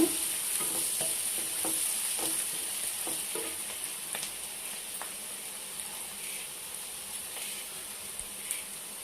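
Onions and green chilies sizzle steadily in a pan while a spoon or spatula stirs them, scraping and clicking now and then over the constant hiss.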